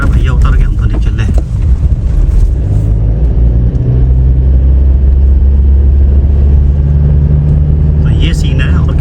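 A car approaches and passes close by on a narrow single-lane road, a steady loud engine and tyre rumble heard from inside a moving vehicle on a long road trip, with people talking over it.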